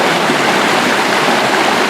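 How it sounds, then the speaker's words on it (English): River water rushing over a waterfall, a loud, dense, continuous hiss and roar with no break, close by, no voices. "Steven, you can't hold that river back."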